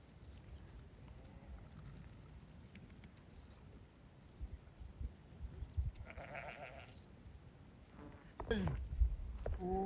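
Sheep and lambs bleat across a hillside flock, mostly faint and distant at first, then a louder, nearer bleat near the end, with a voice speaking briefly in between.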